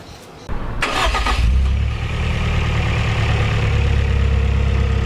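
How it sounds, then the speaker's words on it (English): A 4A-GE 20-valve engine with a faulty VVT pulley cranks and catches after a brief whir, then settles into a steady, close idle that continues to the end. "I'm going to start the engine and then we'll see what we can find out."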